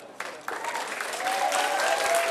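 An audience claps steadily at a Czech apricot festival in Židlochovice, a dense, close wash of applause that swells slightly and keeps going, with no talk on top.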